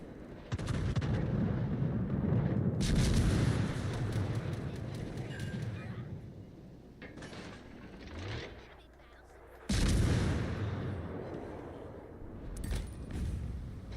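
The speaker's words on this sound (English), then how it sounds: "The dreaded airstrike." Heavy booming blasts from an airstrike in the naval combat game World of Warships: Legends, rumbling in loud bursts at the start and again near the ten-second mark, with a voice talking between them.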